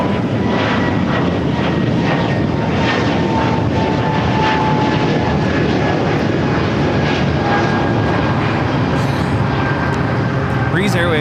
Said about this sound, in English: Breeze Airways 535 taking off to Richmond, Virginia on the A220-300.